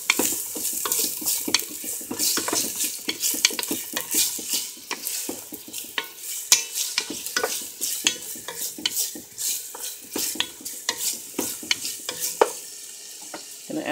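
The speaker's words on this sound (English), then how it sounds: "to this, I'm going to add the onions, ginger, and garlic. We're going to saute this." Onions, ginger and garlic sauteing in coconut oil in a pot, with a continuous sizzle broken by frequent scraping and clinking stirring strokes throughout, up close and without talk.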